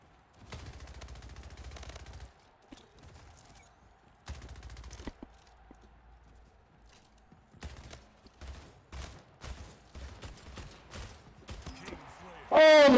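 Gunfire from a ranked shooter video game comes in bursts of rapid automatic fire and sharp single shots, with a voice at times and a loud burst of sound at the very end.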